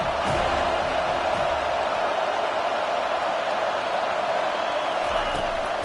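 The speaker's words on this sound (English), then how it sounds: "Decibels rising as the crowd gets behind this defense on third down." A large crowd in a college football stadium roars loudly and steadily as the defense lines up on third down, a dense wall of cheering that holds throughout.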